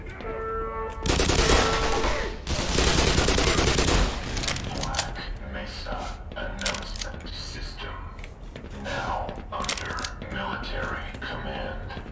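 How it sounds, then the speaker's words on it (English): Gunfire aimed at the player in the video game Black Mesa, two long dense bursts of rapid shooting up close, followed by scattered shots and clatter under loud in-game mixing. "Who's shooting at me?"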